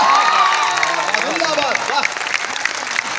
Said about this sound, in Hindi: आगे से पीछे तक जितने लोग हैं दोनों हाथ उठा करके जोरदार तालियां हम तक पहुंचा दें